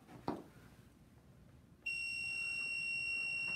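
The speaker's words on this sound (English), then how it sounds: "My mug press is beeping." A sublimation mug press sounds its alarm after a quiet stretch of room noise: a steady, piercing electronic beep starts partway through and holds unbroken to the end.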